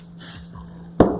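Brief hiss of 505 temporary fabric adhesive spraying from an aerosol can onto quilting fabric, then a sharp knock as the can or hoop is set down.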